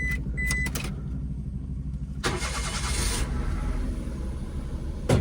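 An auction car with a 3.5 engine cranks on its starter, then catches and settles into a steady, close idle with a continuous low rumble.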